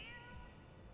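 A cat meows once, faint and short, in a Final Fantasy XIV game scene, with a low steady background hum.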